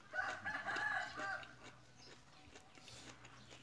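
A rooster crows once near the start, loud and close, in a quiet outdoor setting. The call fades into faint background noise.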